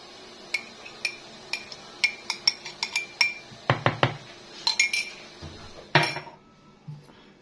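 Bread dough made with yeast being mixed in a bowl, a series of close clinks and knocks from a utensil against the bowl, irregular and fairly quiet, with no voices.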